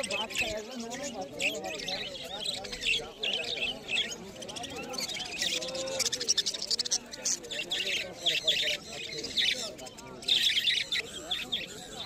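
Budgerigars at a busy outdoor bird market chirp and twitter continuously in dense, bright bursts, with someone talking steadily over the flock.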